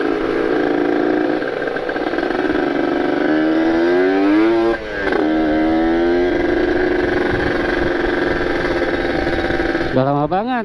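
Kawasaki Ninja two-stroke motorcycle engine climbing a narrow uphill road, a steady loud buzzing drone with rising and falling pitch as the throttle shifts, close and continuous throughout.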